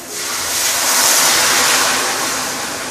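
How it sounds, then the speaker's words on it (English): Hot water pours into a wok of fish soup with green onion, a loud, steady hissing rush that builds and then eases slightly over a few seconds, with no talking. "this is the time where we're going to put in my hot water"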